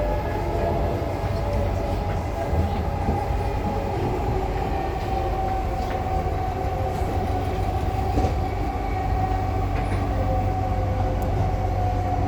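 Steady, loud interior rumble of a C151B metro train in motion, set 689690, with a continuous low drone, faint rail clatter and high electrical whine throughout, no voices.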